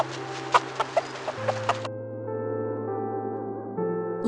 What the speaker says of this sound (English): What does the hen say?